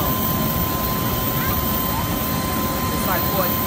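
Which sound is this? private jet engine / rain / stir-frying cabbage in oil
private jet engine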